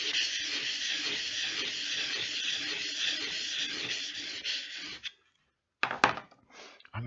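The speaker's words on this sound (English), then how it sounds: "Flatten the back out again because we're just getting rid of that extra coarse grinding." A blade's back rubbed flat on a coarse sharpening surface, a steady loud close-up rasping scrape for several seconds, then a short silence and a few brief scrapes and knocks.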